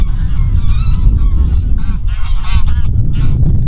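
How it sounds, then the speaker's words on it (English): Geese honk loudly at a lake, a close, busy chorus of overlapping calls over steady outdoor background noise. "The geese of wisdom, they are shouting their approval of this message"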